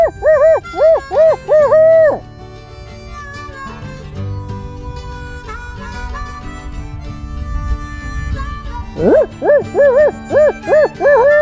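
Owl hooting in two rhythmic bursts at the start and end, with quieter low rumbling and scattered noise in between, outdoors during Kentucky turkey hunting season.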